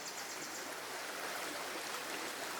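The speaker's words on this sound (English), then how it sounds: "And then directly after it, after that old car, you'll find this beautiful little creek." Small creek in a rainforest, its water flowing steadily with a continuous broadband rush and splashing close by, no voices present.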